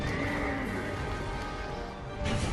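A horse neighs loudly in the Dark Souls 2 game, a sustained whinny with hoof-clops and combat noise in the Huntsman's Copse area, followed by a brief louder burst near the end.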